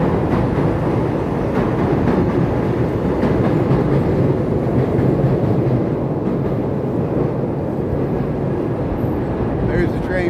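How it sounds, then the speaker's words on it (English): Steady, loud rumble of a Chicago elevated train pulling out of a Loop station, a continuous clattering roar that holds for the whole stretch, with faint voices underneath. "There's the train pulling out"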